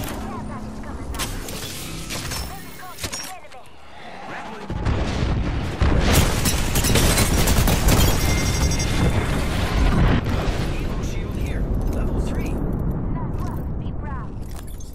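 Airstrike explosions in a shooter video game arrive after a quieter stretch as a sudden heavy boom, then a long, dense rumbling roar of blasts that stays loud to the end, with game voice audible beneath.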